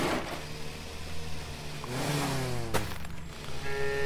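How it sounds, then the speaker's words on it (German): A tractor engine in the Farm Together farming video game hums steadily and rises in pitch as it revs, close and fairly loud, with no talking over it. "bei dem großen Feld lohnt es natürlich, einen Traktor einzusetzen"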